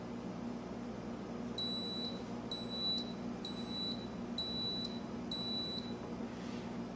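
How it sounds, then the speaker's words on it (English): A boil timer's end-of-boil alarm sounds five evenly spaced electronic beeps over a low room hum, fairly faint and nearby. "At 0 minutes, end of boil will display and an alarm will sound"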